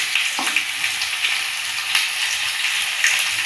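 Green chilies hit hot coconut oil in a pan and fry with a loud, steady hiss and crackle, close up, with a few small pops and stirring scrapes and no talking.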